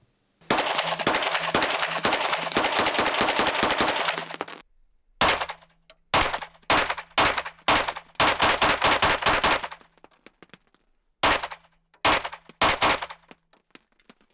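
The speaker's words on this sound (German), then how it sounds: "Und wir haben das Ding auch geschossen und ja, es dämpft halt auch einiges an Rückstoß." Rifle fitted with a Radian Ramjet compensator, fired in a long rapid automatic string and then in shorter bursts with gaps between, loud and sharp with metallic ringing.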